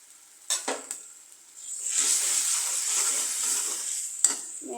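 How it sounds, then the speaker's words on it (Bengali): Turmeric and coriander powder fry in oil for a fish curry with papaya and potato. A bright, hissing sizzle swells after a few spoon clinks and stirs, with another clink near the end. "একটু কষতে থাকুক।"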